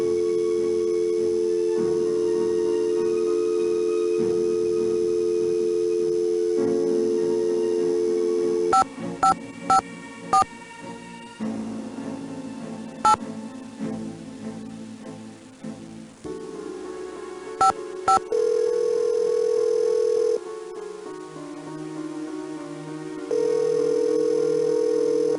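Telephone dialing in the 1998 Nancy Drew game Secrets Can Kill: a steady dial tone, then bursts of touch-tone beeps in uneven clusters, with the tone dropping out and returning between pauses.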